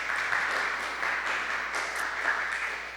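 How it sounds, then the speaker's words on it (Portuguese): A modest audience at an evening marketing talk claps, a steady patter of many hands, moderately loud and even, tapering slightly at the end. "Palmas para vocês, né?"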